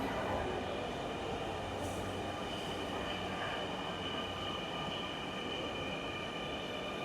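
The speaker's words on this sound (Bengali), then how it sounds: "এই হচ্ছে আমাদের ট্রেন আসতেছে, মেট্রো।" Metro train pulling into a station platform, a continuous rumbling roll with faint high wheel squeals, steady and fairly quiet, without talk.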